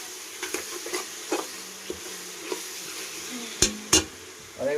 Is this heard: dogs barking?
no